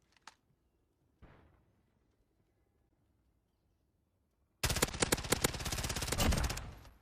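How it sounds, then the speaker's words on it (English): Call of Duty Modern Warfare match audio: near silence with a faint click and a soft thud, then a sudden loud burst of sustained rapid automatic gunfire with dense overlapping shots until the end. "Shots getting put down, of course."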